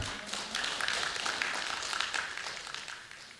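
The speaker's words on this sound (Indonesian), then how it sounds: "Kita berikan tepuk tangan yang meriah" Faint applause from an audience at the IKFH Undip 2025 national congress, a steady wash of clapping that holds evenly for a few seconds and tapers slightly at the end.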